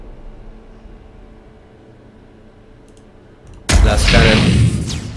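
Gunfire in the video game Warhammer 40,000: Armageddon, a quiet stretch of faint clicks followed by a sudden loud burst of blasts that holds near the end.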